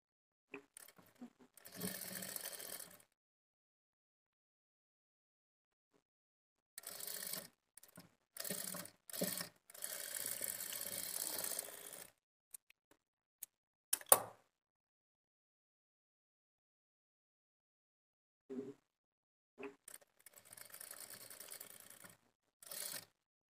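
A sewing machine stitching folded fabric for a blouse hanging design runs in several short, close bursts of rapid mechanical clatter, with pauses between runs and no talk.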